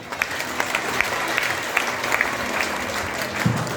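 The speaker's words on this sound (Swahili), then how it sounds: "Wapige makofi." Church congregation applauds at a sermon, a steady wash of many hands clapping with distinct sharper claps poking through, fairly loud and close, with a voice briefly heard under the applause.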